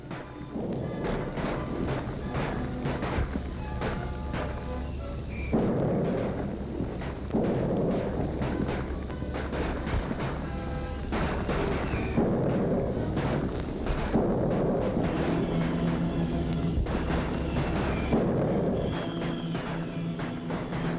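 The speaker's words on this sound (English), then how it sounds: "Even the Uruguayan consulate takes its share of the bombing." Heavy bombing explosions during the 1930s Spanish Civil War strike a city street near the Uruguayan consulate: a steady series of deep, rumbling booms and crashes, loud and continuous, with no clear voices.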